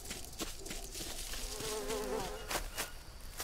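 Bees buzz near dead trees in the jungle survival game Green Hell, a faint wavering drone that hovers in and out, with soft clicks and taps around it.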